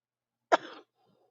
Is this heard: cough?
yes